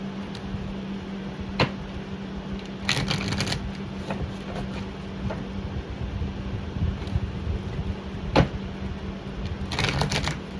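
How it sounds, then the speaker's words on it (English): A tarot card deck is shuffled in a few short riffling bursts separated by quiet pauses, close to the microphone, with a faint steady hum underneath. "I'm just going to shuffle it a couple of times."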